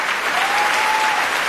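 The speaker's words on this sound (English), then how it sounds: "Applause." A large audience at the Golden Globe Awards ceremony bursts into loud, sustained applause, a thick, even roar of clapping from a packed hall.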